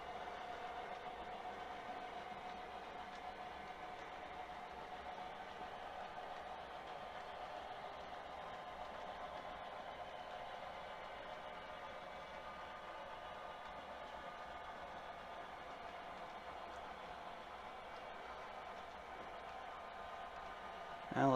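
A freight train rolls past the Atlas Cement site in a steady, unbroken rumble of wheels and cars that stays faint and distant for over twenty seconds, with no speech.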